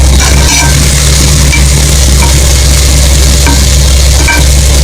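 Okra poriyal fries in a pan with a loud, continuous sizzle and hiss, joined by occasional stirring clicks, under a steady low hum.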